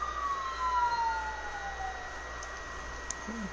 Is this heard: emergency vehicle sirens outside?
yes